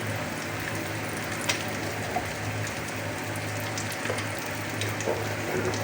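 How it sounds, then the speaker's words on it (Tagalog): Garlic fries in a pan for egg fried rice, a steady close crackling sizzle with scattered sharper pops throughout. "Lagyan na ako ng bawang."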